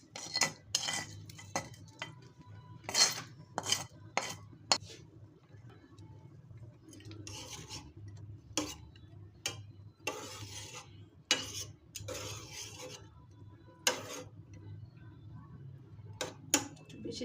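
Utensils clink and scrape against a pot of cooked dal with drumsticks as tempering is added, with sharp metallic taps scattered irregularly over a low steady background hum and faint sizzle, close by.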